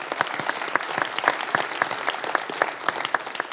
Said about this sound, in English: a round of applause first